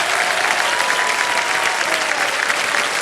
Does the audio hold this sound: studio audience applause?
yes